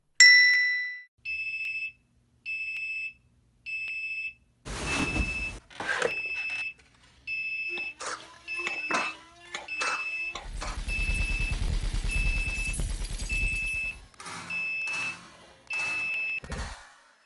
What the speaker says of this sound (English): You could have fun waking up with a Nerf Target alarm clock